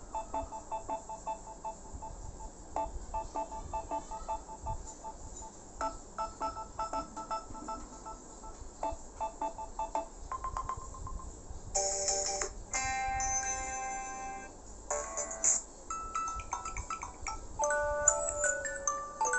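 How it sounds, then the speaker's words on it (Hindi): A run of Samsung Galaxy A72 ringtones plays one after another from the phone speaker, shifting from repeating chimes and tone patterns to denser melodic tunes, loud and close with no talk. "ये सारे रिंगटोन हैं"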